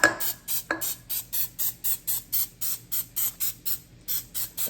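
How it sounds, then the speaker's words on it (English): Baking spray hissing onto a cake pan in a rapid series of about fifteen short, evenly spaced bursts, close and loud, with no talk. "I'm gonna grease it with baking spray"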